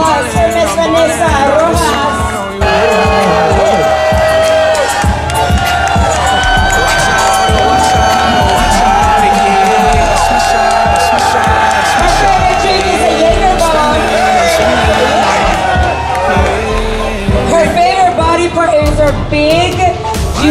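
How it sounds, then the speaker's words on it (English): Crowd cheering and whooping for a bikini contestant at the Tuner Evolution 2016 car show in Daytona Beach, a loud, dense roar of voices holding steady throughout with music-like tonal layers underneath. "A round of applause for Miss Vanessa."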